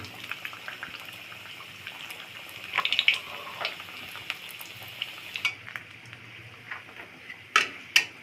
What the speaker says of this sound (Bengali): এখন তেলে দিয়ে ভেজে নিব